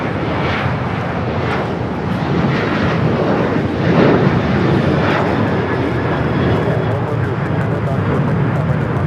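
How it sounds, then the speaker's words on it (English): An American Airlines Boeing 737-800 takes off at LAX, its engines a loud broad roar that holds steady throughout, with people talking over the noise. "This is American Airlines 2308 taking off to Raleigh-Durham on the 737-800"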